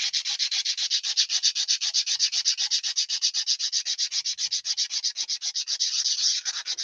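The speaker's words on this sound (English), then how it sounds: "I'm not going to sand this back too much" Hand sanding of a surface, steady rhythmic back-and-forth rubbing strokes, close and fairly loud, continuing evenly throughout with no voices.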